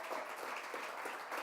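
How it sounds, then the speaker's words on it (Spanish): A church congregation claps together in a steady, dense patter that stays at an even, moderate level throughout, with no one speaking over it. "démosle un aplauso al que vive por los siglos"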